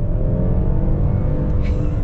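A 2023 Hyundai Palisade Calligraphy's 3.8-liter V6 pulls hard under full throttle in sport mode, a loud, steady engine roar heard from inside the cabin.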